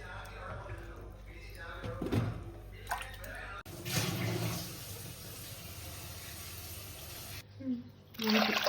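Tap water runs and splashes in a sink as sardines are rinsed, a steady gushing flow with sloshing bursts, briefly cutting out and resuming near the end, with some speech in the background.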